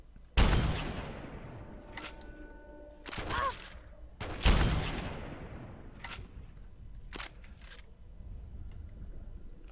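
Gunfire in Fallout 3: two sharp, loud blasts about four seconds apart, each leaving a ringing tail, with scattered fainter shots in between and low game ambience underneath.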